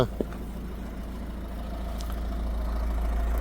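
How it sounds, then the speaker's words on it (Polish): A Citroen C4 Picasso 1.6 HDi diesel engine idles steadily with a low, continuous rumble that grows slightly louder, close by and with no voices. "silnik tutaj według mnie pracuje"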